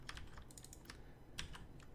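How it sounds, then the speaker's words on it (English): Keys tapped on a computer keyboard while entering copy, cut, paste and save shortcuts during game programming work, a quiet series of separate clicks with a short burst near the middle, no talking. "Control X to cut it, and Control V to paste it, Control S to save"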